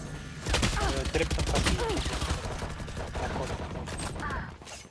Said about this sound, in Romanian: Placing swarm grenade. Swarm grenade. Swarm grenade out.